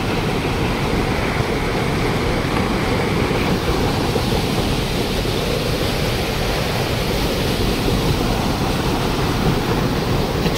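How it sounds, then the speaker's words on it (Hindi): Rushing water pours through the gates of a dam on the Maleni river, a steady, dense roar that fills the whole stretch without a break and stays loud and close throughout. "पानी कितना खतरनाक गिर रहा है"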